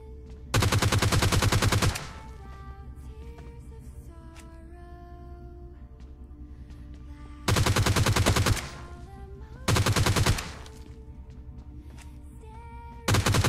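Gunfire in the PUBG Lite battle-royale video game: loud, dense automatic bursts, one long and two shorter with a fresh burst starting at the end, over a quieter steady game ambience.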